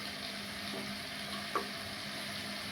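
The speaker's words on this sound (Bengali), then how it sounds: "এই সয়াবিন ভাজা হয়ে গেছে লাল হয়ে গেছে" Soybean chunks fry in a pan with a soft, steady sizzle and one brief clink of stirring partway through.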